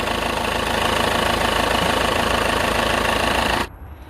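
A Peugeot 206 2.0 HDI diesel engine idles steadily, loud and close with a constant rough clatter, then cuts off abruptly near the end, leaving a quiet tail.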